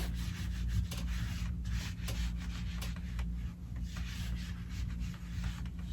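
Hands smooth a sprayed quilt top, giving soft, repeated brushing and rubbing strokes against fabric, close and continuous with no talk.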